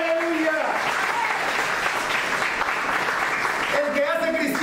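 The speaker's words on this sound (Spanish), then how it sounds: "Dale una ofrenda de palmas a Él" A church congregation at a Christmas service claps in praise, sustained dense applause throughout, with a sung or shouted voice rising briefly over it at the start and again near the end.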